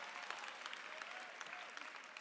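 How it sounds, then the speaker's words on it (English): A crowd of students at a high school Celebration Bowl pep rally claps continuously, a soft, distant patter of many hands with no pauses over two seconds. "Y'all wanna clap?"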